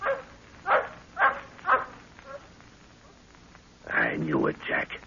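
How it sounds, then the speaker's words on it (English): A dog in a jungle-adventure radio drama set in Africa gives three or four sharp, evenly spaced barks at middle distance, then a voice speaks over a brief noisy burst. "That dog barking."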